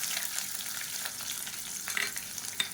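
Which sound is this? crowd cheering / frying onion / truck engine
frying onion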